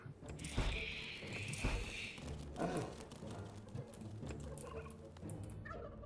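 Turkeys gobble in the dungeon-management video game Dungeons 3, a short burst of fowl calls over a busy bed of game sound effects, fairly faint and mixed with other clatter.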